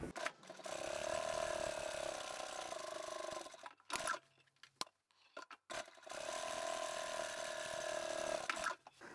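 A sewing machine stitches the fabric handle for a divided four-compartment fabric basket, running in two sustained humming bursts separated by a short pause with faint clicks and handling noise, close and fairly quiet.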